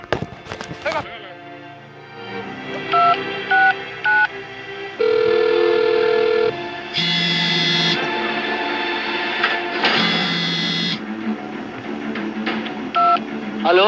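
A push-button telephone is dialed, giving a series of short, loud keypad tones of varying pitch, some quick and some held, close to the listener, with other noises and a voice around them.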